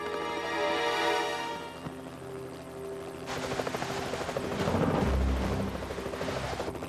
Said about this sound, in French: C'est un hélicoptère de la télévision.